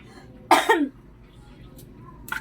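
One person gives a single sharp, close cough with a throat-clearing quality, then quiet background and a faint vocal sound at the end.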